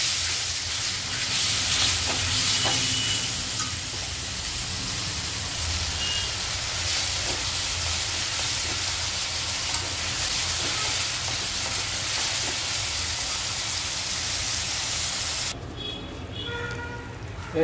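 Tomatoes and chilies hit a hot pan for a dal palak, giving a steady, loud sizzle and hiss that runs throughout before easing slightly near the end.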